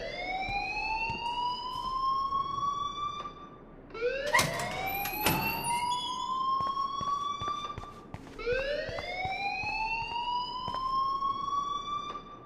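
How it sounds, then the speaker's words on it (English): Rising and falling siren-like alarm wails in the Life is Strange video game, repeating in long sweeping cycles with a sharp burst of overlapping tones midway. "please turn off that alarm since that's your job"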